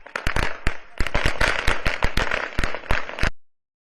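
Firecrackers burst in a rapid, irregular string of sharp loud cracks at a BJP office celebration during the Bihar election, continuing for about three seconds before stopping abruptly.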